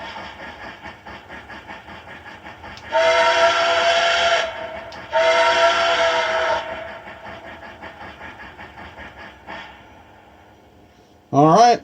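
A model Nickel Plate Road 2-8-4 steam locomotive, battery-powered after a dead rail conversion, hums along with a rhythmic running noise while its whistle sounds twice in long blasts, then once briefly at the end.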